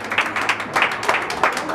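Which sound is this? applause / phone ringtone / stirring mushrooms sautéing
applause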